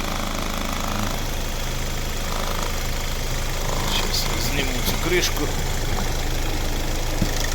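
A steady, rough 1.7 litre CRDi diesel engine in a 2013 Hyundai i40 idles close by with an even mechanical chatter, while someone speaks briefly over it.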